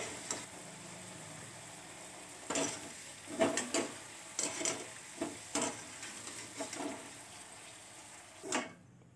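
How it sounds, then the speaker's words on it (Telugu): Amla (Indian gooseberries) deep frying in hot oil for a gooseberry pickle, a steady close sizzle with repeated louder bursts and clatters of stirring in the pan, no voices. "ఉసిరికాయ వేసుకున్న తర్వాత బాగా డీప్ ఫ్రై చేసుకోవాలి"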